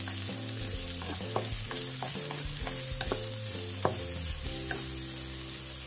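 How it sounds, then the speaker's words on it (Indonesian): Onions frying in a pan for fried rice, with a steady close sizzle and a utensil scraping and clinking against the pan as they are stirred. "Saya akan aduk-aduk. Supaya matangnya rata dan tidak gosong ya,"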